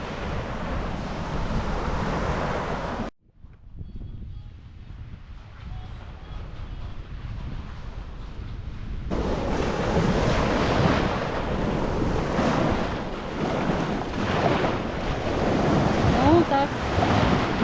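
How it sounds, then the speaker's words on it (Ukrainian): Rough, stormy Black Sea waves crash and roar continuously, with strong wind buffeting the microphone; a brief drop in noise interrupts, then the surf surges louder. "Ось таке сьогодні в нас море. Трошечки штормить."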